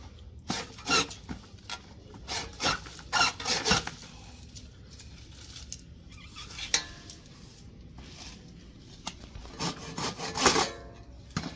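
Scattered, uneven scraping strokes of a dull hand saw with poorly set teeth on a lemon tree branch, close by, with pauses and clunks between short bursts.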